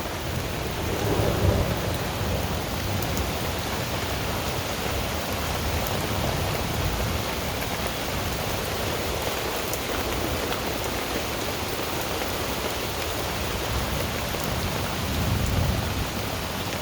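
Heavy rain pours down steadily outdoors in a dense, unbroken hiss, with low rumbles of thunder swelling near the start and again at the end, loud and close with no voices.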